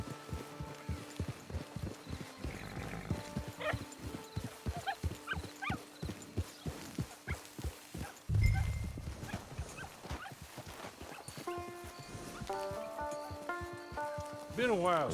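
Rhythmic clip-clop of horse hooves at a steady trot in Red Dead Redemption Online, with a brief whinny-like burst midway and tonal game music layered on top.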